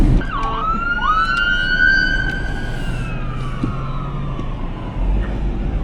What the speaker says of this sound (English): Yeah, I hear the ambulance. It's coming.